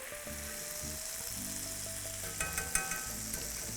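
Chicken cooks on a tawa for Mumbai street-style masala, giving a steady close sizzle and crackle of oil with a few light scrapes and taps near the end.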